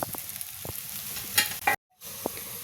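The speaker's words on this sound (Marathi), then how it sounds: "थोडंसं आपल्याला परत एकदा भेंडी हलवून घ्यायची आहे" Okra frying in oil is stirred in a pan with short scraping and clinking strokes over a low sizzle, and the sound cuts out briefly partway through.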